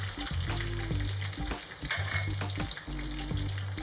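Finely chopped ginger fries in hot oil for a lemon pickle, giving a steady, close sizzle broken by regular scraping stirs of a spoon against the pan, with no talking.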